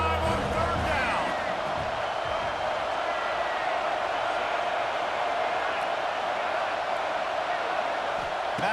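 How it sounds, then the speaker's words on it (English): A stadium crowd in College Football 26, at an Ohio State home game against Michigan in snow, keeps up a steady, dense roar of cheering on a third down, loud and unbroken throughout. "The Buckeye crowd alive on third down."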